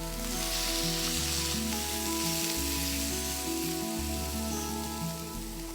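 Meat sizzling on a ridged grill pan, a steady close crackling hiss that continues unbroken under faint, low background music, with no one talking.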